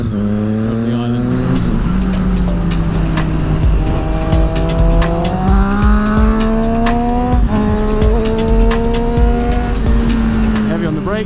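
Video game car on Middle Road between Afton and Newport on an island, engine droning with rising and falling pitch as it brakes hard, short tire squeals cutting in, loud and close with no talk.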